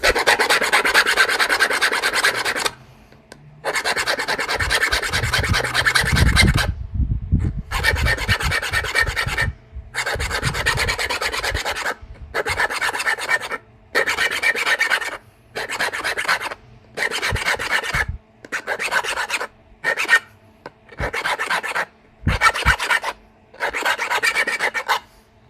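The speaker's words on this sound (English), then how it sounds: "Time to sharpen our tool again." A Keokuk stone knife blade is sharpened with steady rasping strokes, loud and close, in repeated bursts separated by short pauses, with no talk.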